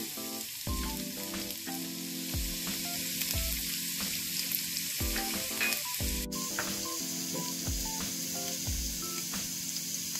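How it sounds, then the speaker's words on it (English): Ginger and garlic sizzle steadily in hot oil while cooking chicken fried rice, a close, continuous frying hiss punctuated by short scraping stirs throughout. "Now my oil is hot, to this I'm going to add the ginger and garlic"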